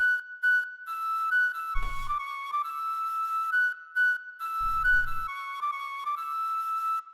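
Airy flute sample, sweetened with auto-panning, lush vintage-style reverb and EQ that tames harsh frequencies, plays a sustained melodic phrase, joined twice by short low thumps, with no talking.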